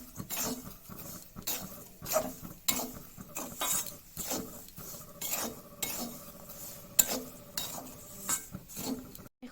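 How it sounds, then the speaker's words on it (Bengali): Jaggery is stirred and fried with roasted semolina in a pan for semolina laddus, a metal spoon scraping and clinking in repeated uneven strokes, close and fairly loud, with no talking. "এখন ভালো করে বেজে নেব গুড়গুলোকে"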